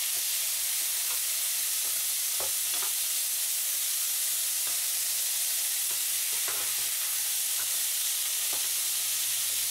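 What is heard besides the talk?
stir-frying chicken with roasted chili paste in a pan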